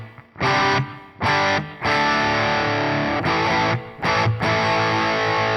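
Electric guitar played through a Wampler Brent Mason overdrive/distortion pedal in distortion mode with a slight boost, giving loud, sustained distorted chords in several bursts separated by brief gaps, alone with no talking.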